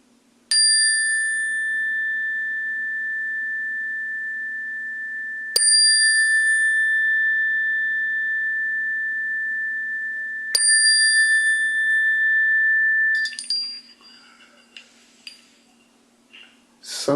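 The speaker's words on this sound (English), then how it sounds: "I love the sound of chimes and gongs." Chimes struck three times at even intervals, each bright metallic tone ringing long and decaying slowly in a quiet space, followed by softer clinks and rustling handling noise.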